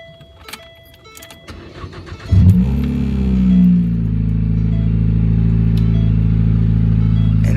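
A car with a resonator-deleted exhaust starts from cold: a few clicks, then the engine catches with a sharp burst and settles into a loud, steady, deep idle heard from close up.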